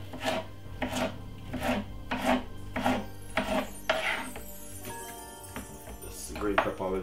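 A kitchen knife chops green pepper on a board in steady, evenly spaced strikes, close and crisp, slowing to a few scattered cuts toward the end.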